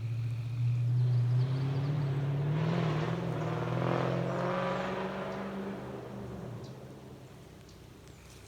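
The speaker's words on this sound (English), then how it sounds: "That's the black car Zoom boy going back home" A black car drives past on a rural homestead road, its engine hum rising loud near the start and then fading steadily as it moves off into the distance.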